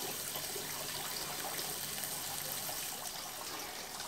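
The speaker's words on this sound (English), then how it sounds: "Water running here." Rainwater from a roof runs through a homemade filter system, a steady close trickling and splashing flow, continuous and fairly quiet, with no voices.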